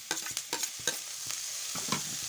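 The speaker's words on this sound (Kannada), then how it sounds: "ಈಗ ಉಳ್ಳಾಗಡ್ಡಿ ಕುದೀತ್ರಿ ಈಗ ಟೊಮೆಟೊ ಹಾಕ್ತೀನಿ" Onions and tomato sizzle in a pan while a spoon scrapes and stirs in quick, uneven strokes, close and fairly quiet.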